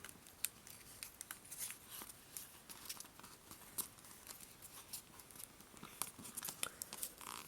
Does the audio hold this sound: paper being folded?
yes